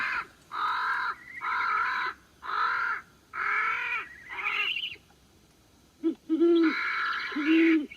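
A loud, repeated owl call plays from a lure at a broad-winged hawk trapping site, giving several evenly spaced hoots followed by a short break and a couple of louder, harsher calls, clear and close.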